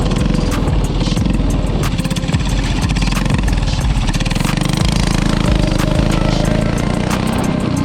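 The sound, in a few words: homemade go kart engine running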